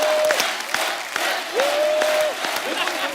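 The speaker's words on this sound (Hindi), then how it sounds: "जोरदार तालियां शानुदा के लिए।" Audience applause at a live stage show, dense steady clapping across the whole stretch with a sustained tone ringing over it, loud and close throughout.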